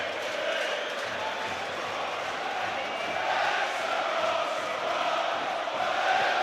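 A big stadium crowd roars and cheers steadily at a Charlton Athletic v Wycombe Wanderers football match as the home side clinch a trip to Wembley, a dense, continuous wall of joyous noise throughout.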